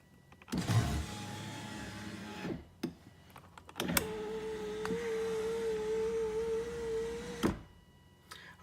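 An Infiniti G35's newly replaced power window motor whirs in two separate runs, each a few seconds long, with door clunks before and between them. The sound is close and fairly quiet, and no one speaks.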